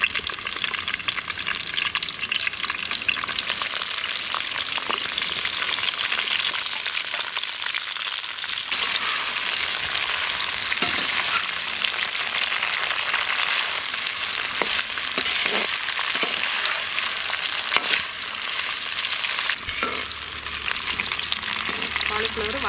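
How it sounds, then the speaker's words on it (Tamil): Boiled cauliflower frying in oil in a village kitchen, a loud, steady, close sizzle with bright bubbling hiss that runs continuously, with small scrapes and shifts but no voices. "வேக வச்ச காலிஃப்ளவரை ஃப்ரை பண்ணி எடுத்துடலாம்"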